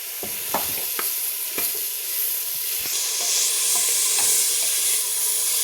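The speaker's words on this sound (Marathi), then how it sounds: "प्रथम मी पुदिना आणि मेथी घालते. ती थोडी आधी तेलात परतून घेणार आहे." Chopped mint and fenugreek leaves sautéing in oil with onion and tomato masala for mutton dalcha, steady loud sizzling broken by several sharp spatula knocks against the pan early on.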